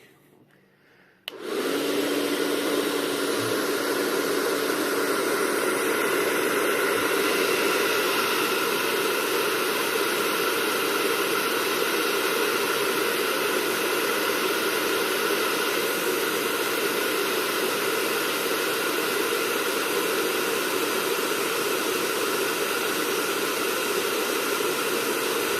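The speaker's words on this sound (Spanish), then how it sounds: "yo voy a usar un secador de cabello" Hair dryer switched on after about a second of quiet, then a loud, steady whirring blow of hot air with a constant motor whine running unbroken for over twenty seconds, no voices.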